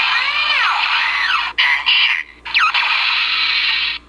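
A CSM Kabuto Zecter toy from Kamen Rider Kabuto plays its Henshin transformation effect, loud bright electronic whooshes and warbling synth sweeps with brief gaps, close and continuous.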